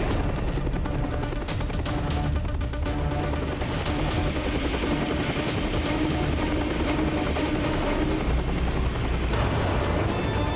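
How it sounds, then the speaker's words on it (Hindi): Helicopter heard in an action game or cartoon scene near a palace, a steady loud rotor drone with dense broadband noise and rapid chopping texture throughout, with no talk. "नीचे पैलेस के पास हेलीकॉप्टर लैंड करो।"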